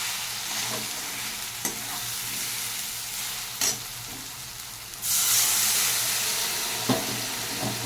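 A spice paste of turmeric, cumin and chili powder sautés in a pan for lentil dal, with a steady close sizzle and spoon scrapes. A louder hiss bursts up midway as a splash of water goes in.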